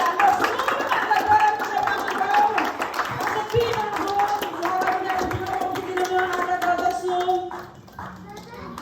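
Applause from an audience at a gathering, with claps spread throughout and children's voices and other chatter mixed in, fading somewhat toward the end.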